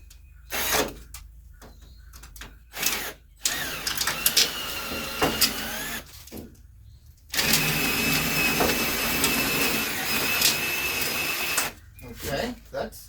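A drill running a sheet metal cutting attachment slices a long strip of metal, heard as a harsh grinding whine in several short bursts and then one sustained cut lasting a few seconds, with speech between bursts.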